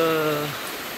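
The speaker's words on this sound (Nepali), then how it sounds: "यस्तो पानी परिरहेको छ" Rain falls outside as a steady broadband hiss, while a fading tonal hum trails off in the first half-second; no voices are heard.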